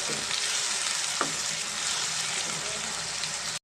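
Ground masala paste frying with onions in a pan for chicken gongura curry, a loud dense sizzle with occasional stirring scrapes that cuts off abruptly at the end.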